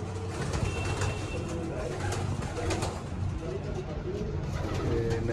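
Pet pigeons cooing close by in a rooftop coop, with repeated soft, throaty coos layered over steady outdoor background noise while someone talks at the same time.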